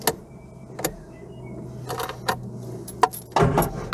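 Keys jangle and click in the ignition of a Classic Mini Clubman, a handful of sharp metallic clinks and rattles scattered over a few seconds, close and quiet against a faint background hum, followed by a louder fumbling clatter.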